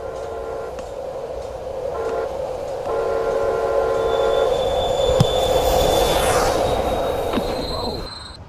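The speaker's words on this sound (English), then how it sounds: "Look, the train!" A train rolls past in an animated rail safety cartoon, its steady rumble building and holding with a whistle-like tone and rising wheel squeal near the end, loud and close, with no talking over it.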